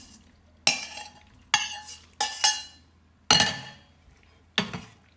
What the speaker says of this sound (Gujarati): બધું એકદમ સરસ મિક્સ કરી દઈશું.